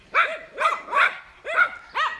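Several dogs bark in a rapid series of five loud, close yaps, each sharp and evenly spaced.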